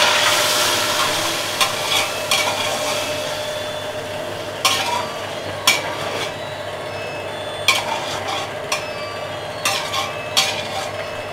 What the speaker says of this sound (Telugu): సో ఆనియన్స్ ఫ్రై అయిపోయి ఆనియన్స్ తీసేస్తున్నాను.